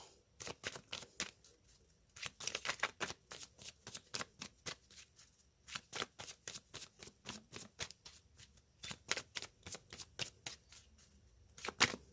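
A deck of tarot cards being shuffled, with rapid bursts of riffling card flicks repeating in quick rhythmic runs, close and fairly loud, no talking.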